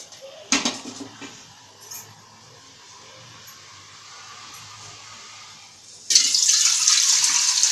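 Water runs from a kitchen tap into a metal pot, with a sharp clank of the vessel near the start, a steady splashing fill, then a sudden louder, brighter gush toward the end.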